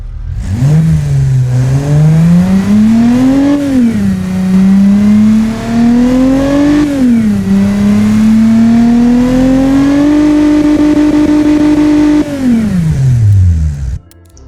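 A DeLorean V6 in a car-building game fires up and revs, rising and dipping in pitch across several throttle swells before settling into a steady high rev and dropping away, loud and alone.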